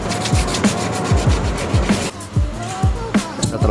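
Sandpaper scrubbing excess cured resin off a carbon kevlar part, heard as steady, close rhythmic back-and-forth rasping strokes, each with a sharp low scrape, continuing without pause.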